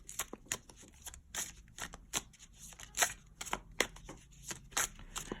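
A tarot card deck is shuffled close up in a series of quick, crisp riffles and soft taps, some sharper bursts standing out over a quiet room.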